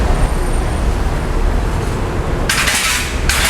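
Busy street traffic in Guangzhou makes a dense, loud roadway roar of passing vehicles, broken late by two short bursts of sharp hissing, like air brakes.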